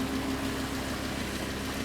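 A 2015 Lamborghini Huracan LP 610-4 V10 in Rosso Mars Red idles with a steady, deep, even rumble, close and constant with no revving.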